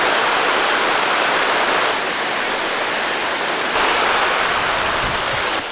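A 55-metre waterfall on a hike in Mauritius roars as a loud, steady, broadband rush of falling water, close and continuous with no voices.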